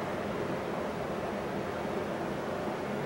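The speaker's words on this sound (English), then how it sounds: "You guys don't have to pardon the fan noise" Constant broadband whooshing of a fan running nearby, steady and unchanging throughout with no other sounds.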